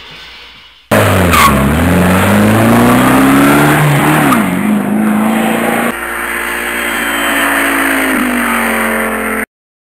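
A car engine revs hard in a driving video game, with tyres squealing and skidding as the pitch rises and falls. The sound is loud and steady, with an abrupt start and a slight change partway through, and no talk over it.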